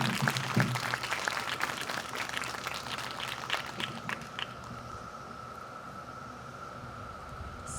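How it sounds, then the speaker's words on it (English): Brief applause for a presenter at a school fifth-grade ceremony, a moderate patter of clapping from an audience that dies away after about four seconds, leaving a faint steady hum. "Big round of applause for Mrs. Reed."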